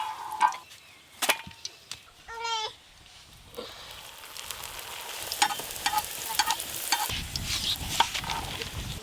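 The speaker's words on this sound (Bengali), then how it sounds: "আর একটা ভাজলেই সব মোগলাই পরোটা ভাজা হয়ে যাবে।" Mughlai paratha frying in oil in a home kitchen; a few sharp knocks and clatters come first, then a steady, close sizzle builds and holds. No one speaks.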